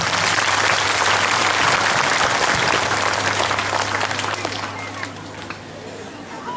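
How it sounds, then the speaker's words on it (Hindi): A church congregation at a diamond jubilee celebration applauds donors with loud, dense clapping that gradually fades toward the end, with crowd chatter underneath. "हमने एक बार जोर से ताली बजा"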